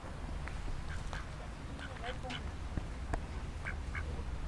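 A duck quacks repeatedly at a pond in a botanical garden in Tours, in short nasal bursts over a steady outdoor background, with soft voices murmuring nearby.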